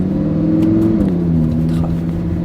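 A Lamborghini Huracan in sport mode, engine mounted behind the driver, rumbles loudly from inside the cabin as the revs rise and shift in pitch, a strong, continuous engine drone.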